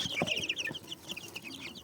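Naked neck chickens clucking close by, a busy stream of short, sharp calls overlapping one another, with no talk over them.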